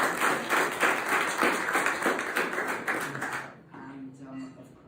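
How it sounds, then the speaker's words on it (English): Audience applause at a plaque ceremony in a London RAF club, a dense burst of clapping from a room full of people that fades out after about three and a half seconds, followed by quiet room tone. "So a special round of applause for today."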